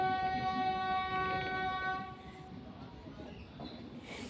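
A local train between Haldia and Howrah, India, rumbles along with a steady harmonic horn-like tone over the first half, then it drops away, leaving a lower rolling rumble.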